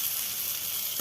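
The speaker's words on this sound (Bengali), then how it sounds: "এরপরে আমি ভাত দিয়ে দেবো, একটু ভাজা ভাজা।" Leftover cooked rice frying in a pan, a bright continuous sizzle close up with no breaks.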